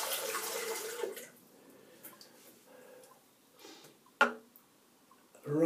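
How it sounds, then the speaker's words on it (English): Cold water is splashed on the face at a sink after a shave with a 1916 Gillette razor; faint, close splashes come in short bursts separated by quiet gaps. "So I'm just going to wipe my face and splash on some cold water."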